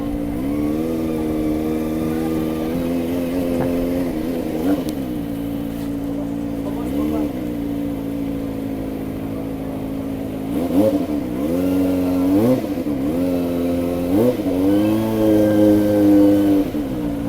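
A Kawasaki ZX25r inline-four motorcycle revs through its gears on a city ride in Baguio City's central business district, its engine note rising and falling steadily and loudly throughout with several sharp rev surges.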